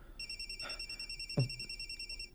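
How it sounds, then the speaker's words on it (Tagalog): A telephone rings with an incoming call, a steady high electronic tone held throughout at moderate distance, with a faint thump partway through. "si Alice mining nanawag"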